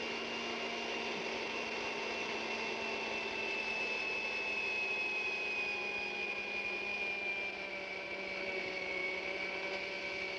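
An electric mixer beating bread dough, a steady whirring motor hum with a whine that gradually drops in pitch as the motor slows under the thickening dough, continuous and close.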